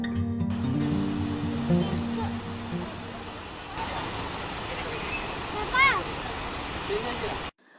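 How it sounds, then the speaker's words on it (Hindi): The Soloka Dare waterfall sends up a steady roar of falling water heard from a distance, with people talking over it and a few bird calls mixed in. "here is the waterfall"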